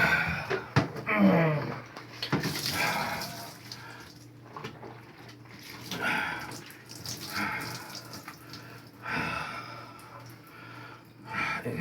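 Running water splashes and trickles while soap is scrubbed into a surgical wound on a leg after fasciotomy repair surgery, with uneven bursts of washing and a voice in parts.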